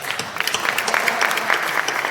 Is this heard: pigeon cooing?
no